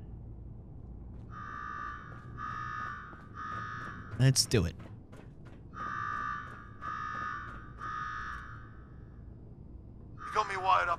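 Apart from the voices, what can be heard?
alarm going off in the video game Fallout 4 Nuka World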